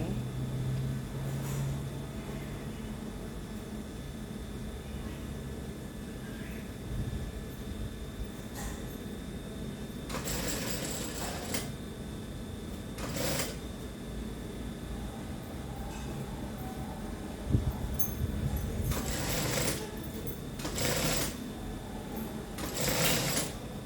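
A domestic sewing machine stitches along a dress hem that is being shortened, running in a steady mechanical hum with a few louder bursts and clicks partway through, no speech.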